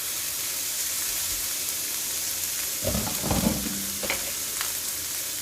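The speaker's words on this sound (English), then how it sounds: "Now I'm just going to throw the rest of the butter in here" Homemade garlic butter tossed onto a hot hibachi griddle with shrimp, giving a steady loud sizzle and hiss throughout, with a few brief stirring clatters in the middle.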